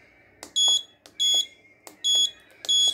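An Arduino-based smart medicine reminder alarm with a DS3231 clock sounds four sharp electronic beeps at an even, pulsing rhythm, close and clear with nothing else around them.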